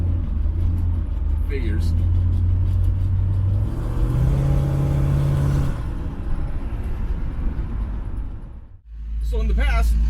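Car fitted with ACES EFI Killshot fuel injection accelerating on a road trip, a steady loud engine drone and road rumble that rises in pitch midway, with brief speech over it.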